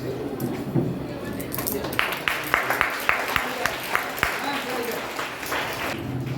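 Schoolchildren applaud to welcome the chairman at a computer room inauguration ceremony, a rippling crowd of claps with sharper individual smacks standing out, with a voice talking over the clapping.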